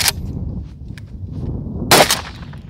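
Birdshot fired at a plated steel target outdoors, heard as two sharp, loud cracks, a short one at the start and a heavier blast with metallic impact near the end, over steady background noise.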